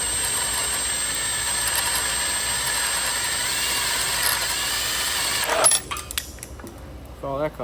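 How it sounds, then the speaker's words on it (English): A power drill bores a hole into a Turbo 400 transmission case with a steady high whine that runs for several seconds, then cuts off and gives way to a few scattered clinks and handling noises nearby. "I'm gonna drill this hole and I'm gonna tap it for 5/16"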